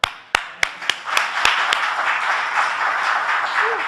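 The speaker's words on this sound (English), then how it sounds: "Clap for yourself." A church audience starts clapping with a few sharp, separate claps that quickly blend into a dense, continuous round of applause, fairly close and loud.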